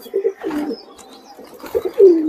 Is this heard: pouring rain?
no